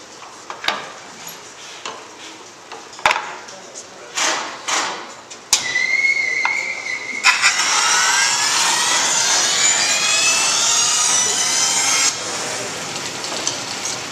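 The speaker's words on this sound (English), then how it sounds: "I'm going to be demonstrating a rip cut right now with the fence" Bandsaw making a rip cut in wood along the fence, first a few short bumps and handling knocks, then the blade bites in with a loud steady whining saw roar for about seven seconds before easing off.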